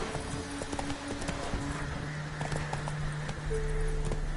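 Horse hooves clip-clopping at a steady trot in The Witcher 3, carrying on without a break under a low ambient bed, with a faint whinny-like tone near the end.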